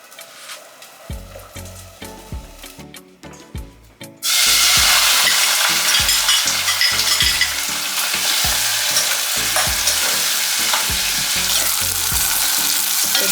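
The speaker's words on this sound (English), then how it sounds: "I will start my cooking the mackerel." Mackerel frying in a pot for a Jamaican rundown: after a few seconds of quieter stirring and clatter, a loud, steady sizzle takes over and holds, with repeated scraping and knocks of a utensil against the pot underneath.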